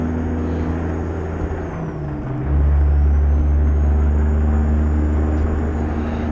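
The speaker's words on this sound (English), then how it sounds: "You can really hear the turbo on this truck, fam. Running with the Peterbilt 389." A Peterbilt 389 truck engine in American Truck Simulator hums steadily, then swells into a louder, deeper drone as the turbo spools up with a faint whistle, continuous and close.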